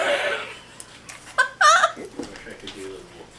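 A person's voice imitates a crow's caw in a couple of short, nasal bursts, with faint talking around it.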